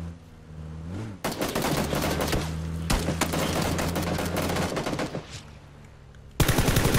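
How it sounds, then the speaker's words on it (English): Rapid bursts of automatic gunfire from the video game PUBG, loud and sharp over an engine-like drone, with a longer volley in the middle and a final sudden loud burst at the end. "I hear him shooting over here."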